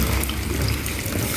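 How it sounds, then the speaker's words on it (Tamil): Tamarind water poured into a pan of fish curry, a close, steady splashing trickle of liquid lasting a second or two. "இதுலேயே கொஞ்சம் புளி தண்ணி நான் சேர்த்துக்கிறேன்."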